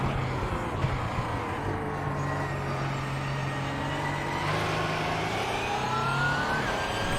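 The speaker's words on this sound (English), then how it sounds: "these cars always sound like a bag of nails." Racing car engines in a sim racing game at Daytona drone steadily, a harsh rasping whine that shifts pitch slightly as the cars run, continuous and fairly loud with no talking.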